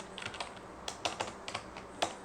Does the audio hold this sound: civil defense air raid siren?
no